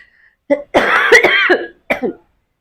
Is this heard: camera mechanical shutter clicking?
no